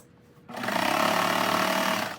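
A serger stitches a yoga band onto pants, starting abruptly after a quiet moment and then running at a steady, fast, buzzing whir, close and continuous to the end.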